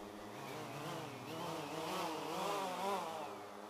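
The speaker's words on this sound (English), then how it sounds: "that's the front motor speeding up" The front motor of a 250-size 3D RC helicopter flying upside down whines and buzzes steadily, its pitch rising and warbling as it speeds up, close and continuous with no voices.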